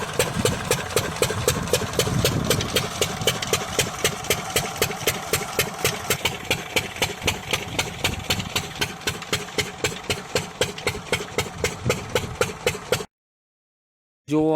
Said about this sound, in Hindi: जंगल में इंजन चल रहा है, शायद उसी तालाब को भरने के लिए इंजन लगाया है युवाओं ने